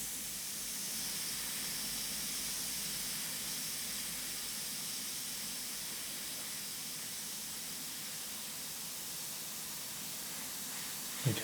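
An airbrush sprays thin Indian ink in one long, steady hiss of compressed air, close and even throughout, with a brief knock at the very end and no speech.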